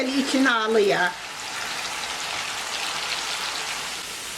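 Potato slices fry in hot oil in a pan, a steady fine crackling hiss that runs on after a brief spoken remark at the start.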